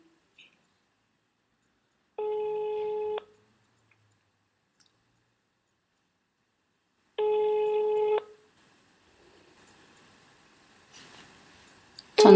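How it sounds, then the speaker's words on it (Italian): An outgoing telephone call rings twice, each ring tone lasting about a second with a long silent gap between, clear and alone, followed by faint clicks and handling noise at the end. "Il telefono anche in questo caso squilla."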